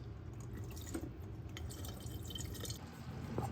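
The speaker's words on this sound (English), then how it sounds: "Drain the water off the potatoes." Water drains off boiled potatoes for beef stew, a steady splashing and dripping pour with scattered droplet ticks, close and continuous throughout.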